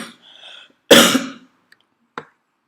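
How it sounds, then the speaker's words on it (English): A single sharp throat-clearing cough bursts out close by, followed by a faint small sound and a short second clearing, then silence. "I'm going to cough here."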